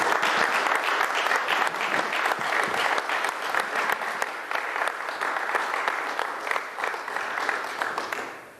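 Audience at a 2009 political talk in Minneapolis claps and cheers for a speaker, steady dense applause filling the hall throughout before fading at the end.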